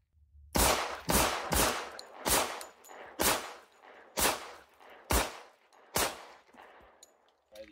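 Kimber Ultra Carry II pistol fired with Wilson Combat magazines, eight sharp, loud shots in a fairly even rapid string, each with a short echoing tail, no talking.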